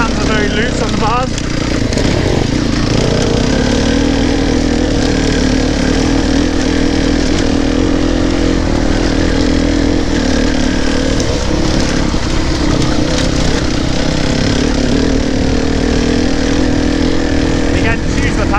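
An enduro motorcycle engine runs loud and close while riding off-road, a continuous rough drone with slight throttle variations; no clear speech is present, only the engine noise throughout.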